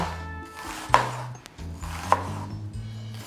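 A knife cuts an onion into thin strips on a board in two distinct chops about a second apart, with soft rubbing and slicing sounds between them.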